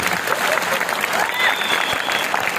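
Loud, steady clapping from an audience at a business meeting fills the whole stretch as a dense continuous wash, with some background murmur mixed in.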